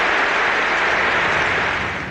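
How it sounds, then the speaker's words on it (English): Sustained, dense applause from a standing ovation by Congress, a steady roar of many hands clapping at full strength, easing off slightly at the end. "He was even saluted by the president and given a standing ovation by Congress."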